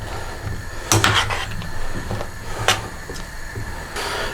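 A spoon stirs potatoes boiling in a pot, giving a few sharp metallic clanks and scrapes against the pot over a low bubbling background.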